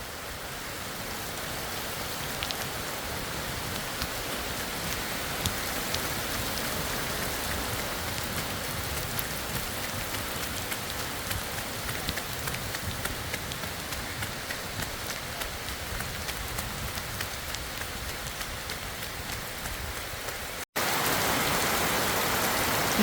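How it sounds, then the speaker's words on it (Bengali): Heavy rain pouring down steadily on a road and nearby surfaces, a dense unbroken roar close by that lasts throughout. "কি পরিমাণ বৃষ্টি।"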